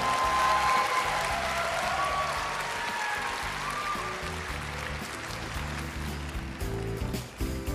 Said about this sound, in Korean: 여러분, 2012 미스코리아에게 다시 한번 뜨거운 박수 부탁드립니다.